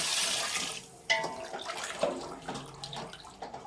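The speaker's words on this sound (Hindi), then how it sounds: "तकरीबन 2 गिलास पानी के वो डाल देंगे।" Water left over from cooked chickpeas is poured into a pot for achari chana chicken biryani, a close, steady splashing stream with a few sharper sloshes.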